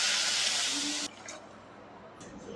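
Water pours in a steady, loud rush into a pan of roasted coconut for about a second, then cuts off, leaving faint hissing and light kitchen clatter.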